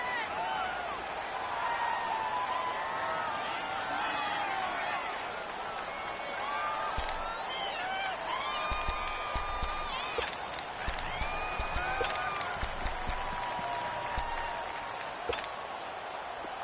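Stadium crowd roar from a PS4 American football video game with home-field noise, a steady wash of cheering punctuated by whistles and brief louder swells, with commentary voices over it.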